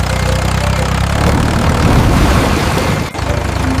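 A cartoon tractor's engine chugs with a low, rumbling drone, pulsing steadily and loud, with a brief dip near the end before resuming.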